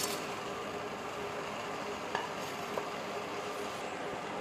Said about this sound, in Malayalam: ഇനി ഇത് ഇളക്കി കൊടുക്ക.